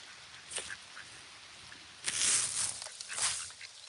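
Ducks that are shedding their winter coats quack outdoors. Scattered faint calls come first, then a louder, denser burst of quacking and rustling near the end.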